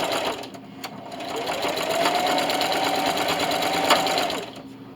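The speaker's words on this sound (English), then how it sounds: "so I'm over here at my sewing machine." A sewing machine fitted with a walking foot runs a straight stitch through denim in a steady, close, continuous whir that lasts several seconds and then slows to a stop.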